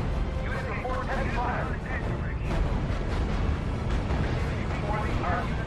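Heavy artillery fire in R.U.S.E. during a WWII campaign battle in Italy, a dense rumble of repeated booms and blasts running without pause, with voices heard under the barrage.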